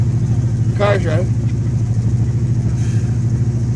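A 1978 Chrysler Cordoba engine idles steadily just after start-up at a car show, a low, even rumble that carries on throughout while people talk nearby.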